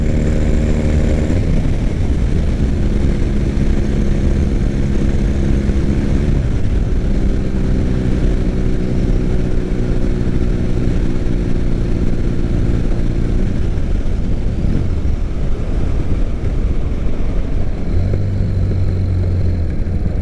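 A 2006 Triumph Bonneville motorcycle engine runs loud and close on its first ride after restoration, a steady roar rising and falling through gear changes, with no talking.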